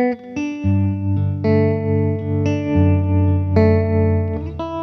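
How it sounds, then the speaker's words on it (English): A sustained electric guitar, processed with a parametric EQ and subtle reverb, plays a series of ringing chords, bright and shimmering with a light reverb tail, each strum clearly separated. "We'll fix that with a parametric EQ and add a subtle reverb on top to bring out some shimmer."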